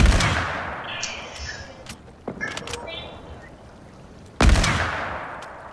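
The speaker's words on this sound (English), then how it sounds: "There's me and this guy taking turns sniping." Sniper rifle shots in a mobile shooter video game: sharp, loud cracks spaced a few seconds apart, with the heaviest blast near the end and quieter in-game effects between them.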